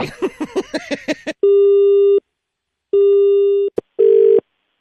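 A short burst of rapid tones, then long steady electronic busy-tone pulses separated by silence, with a brief click before the last one.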